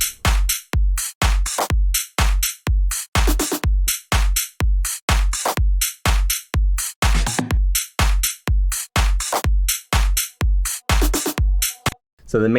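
A Brazilian bass drum loop with hard-hitting kicks and different hi-hats panned to each side. It runs as a dense, loud, steady pattern of punchy hits and crisp ticks with a brief dropout near the end, and no talking.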